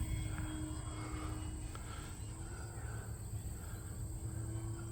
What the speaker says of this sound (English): Love flying this airplane.